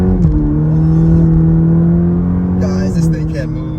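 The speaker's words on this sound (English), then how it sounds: "V mode, off the line, no brake torque, just on the gas." A 2023 Cadillac CT4-V in V mode launches hard off the line without brake torque, its engine note rising in a strong, steady roar that shifts pitch near the end, loud and close, with cabin voices over it.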